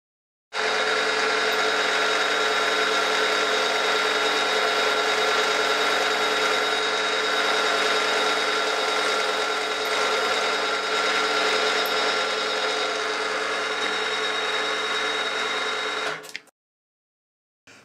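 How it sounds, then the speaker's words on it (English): A drill whines continuously for about sixteen seconds as it bores through thin aluminium, a steady loud mechanical drone that cuts off abruptly. "I can drill straight through the aluminium because it's thinner than the flutes on the drill."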